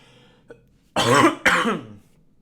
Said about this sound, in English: I'm going to cough right now because I need to.